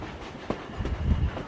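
A train rolls along rails on a line once running from Puerto Eten to a sugar-cane hacienda, giving a short close rumble with a sharp clack near the start and heavier low clattering toward the end.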